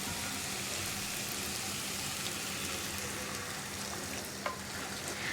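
Potato masala sizzles and fries in a pan as boiling water goes in, a dense continuous crackle and hiss with a faint stirring scrape and a brief clatter near the end, heard alone.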